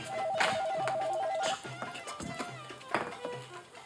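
A home telephone rings with a warbling electronic trill that lasts over a second, followed by quieter household sounds and tapping while people talk nearby.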